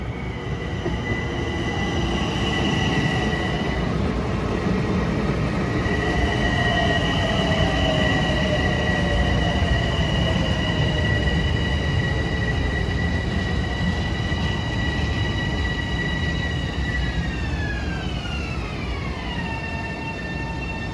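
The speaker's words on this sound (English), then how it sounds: "Train 1613, Huntington to Grand Central. Getting ready to stop and pick up a load of people here." An LIRR M7 commuter train, number 1613 from Huntington to Grand Central, pulls into New Hyde Park station during the morning rush. Loud, steady rumble throughout, with squealing wheel tones that drop in pitch as it slows near the end.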